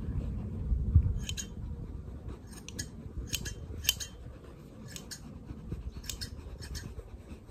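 Scissors snip through a sheep's wool during a show-prep trim, giving a steady series of crisp, close metallic clips at an even rhythm over a low background rumble, with no speech.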